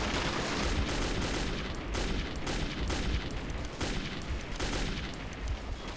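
Loud, sustained video-game gunfire from Metro 2033, dense overlapping bursts of shots crackling almost without pause across the whole stretch, like a chaotic firefight in a smoky, dim underground space.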